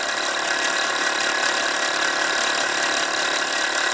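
A Bowman M158 steam engine, stripped down and cleaned up, runs on compressed air at about 1500 RPM, giving a steady, loud, close mechanical whir with dense rapid ticking that holds constant throughout.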